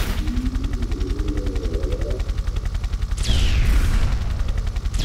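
Rapid gunfire in the Tomb Raider 3 video game, a fast, even stream of close shots running throughout, joined near the end by a louder burst and a sharp rising whine.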